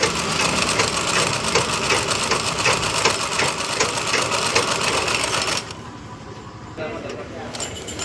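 A sewing machine stitching the borders of a saree, running as a fast, steady mechanical rattle for several seconds, then cutting out briefly before resuming. It sounds close, with no spoken words.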